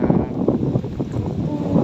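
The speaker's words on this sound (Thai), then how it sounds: "เสียง ลม เสียง ลม ลมพัดไวย" Wind gusts buffet the microphone outdoors in a low, rumbling rush that swells and dips without pause, loud and close.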